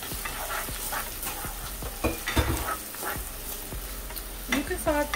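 Shallot, garlic, leftover onions and hot pepper sautéing for Trinidadian aloo pie filling, a close sizzle broken by regular stirring clacks and scrapes of the spoon against the pan.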